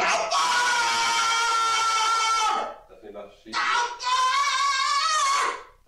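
A woman undergoing an exorcism lets out two long, piercing, strained screams separated by a brief gasping pause, loud and close, tonal and harsh with rising and falling pitch.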